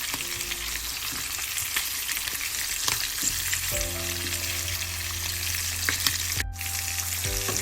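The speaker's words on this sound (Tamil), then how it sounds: "மிச்ச இறாலை பொரிச்செடுப்பேன்." Prawns frying in hot oil in a home kitchen, a steady close sizzle and crackle with occasional clinks and stirring sounds from a utensil.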